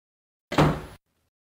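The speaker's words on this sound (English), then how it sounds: "and closed the door" A single short thud of a door closing, close and fairly loud, then silence.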